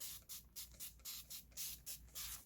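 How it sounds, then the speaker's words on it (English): Best Press starch spray is pumped onto the back of fabric before ironing, with about eight quick, close hissing bursts in a steady rhythm. "I'm going to spray it from the back side with some Best Press."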